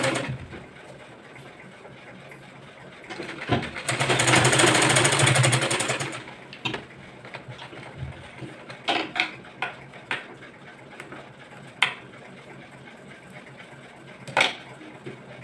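Electric sewing machine running in a burst of stitching on a blouse strip for a boat neck blouse, a steady whirring drone for about two seconds, followed by quieter clicks and handling noises.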